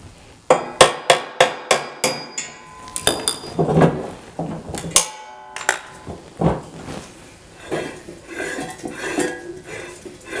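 Hammer blows strike metal on a snow blower auger, working a stuck, rusted and bent shear bolt loose: a run of sharp, evenly spaced clanks, then irregular bangs and metallic knocks, close and loud, with no talk.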